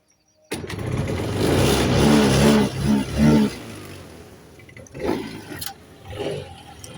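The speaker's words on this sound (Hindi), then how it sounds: "मैं बार बार ये किक लगा रही थी और मैं एक्सीलेटर दबा रही थी" A scooter engine, stiff from winter cold, fires after a kick start and revs in a few uneven bursts, then settles and dies away to a quieter idle with further short throttle blips.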